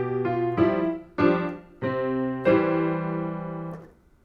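A piano plays bars 15 and 16 of a beginner's second song: about five clear, sustained notes and chords struck one after another at a slow, steady pace, close and fairly loud, ringing with no voice over them.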